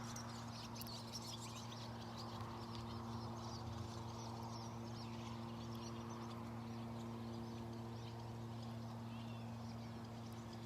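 Birds call faintly outdoors in a calm, serene spot, their thin chirps scattered over a steady low mechanical hum that runs throughout.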